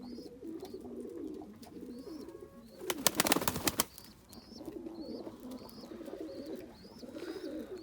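Pigeons coo repeatedly in soft, low rolling calls, with a brief burst of flapping wings in the middle and some higher chirps in the background.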